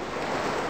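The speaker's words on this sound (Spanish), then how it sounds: "a medida que pasaba de zona, el sonido del mar se iba haciendo cada vez más bajito" Sea waves ambience from the video game The Gray Garden: a steady, soft wash of surf and wind-like noise, continuous and unbroken, with no talking.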